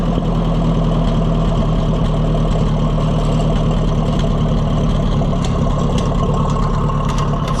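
An Oliver 550 tractor gas engine idles in a steady, continuous low rumble close by, unchanging throughout, with no voices.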